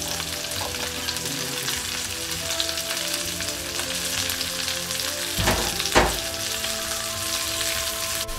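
Onion and celery sizzle steadily in a hot pan, a dense continuous frying hiss with a couple of brief louder stirring bursts near the end; no voices.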